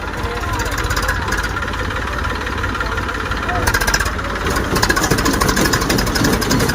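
Eicher and Sonalika tractors are straining in a slow tractor-pulling race, their diesel engines chugging loudly and growing rougher, with voices over the engine noise.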